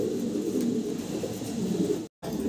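Pigeons cooing in a loft, a steady low murmur of several birds close by, with a brief silent gap near the end.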